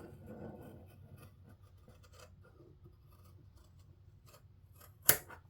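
Scissors snip through fabric while trousers are being sewn. The cutting is soft and close, with quiet rasping strokes through most of the clip and one sharp, louder snip near the end.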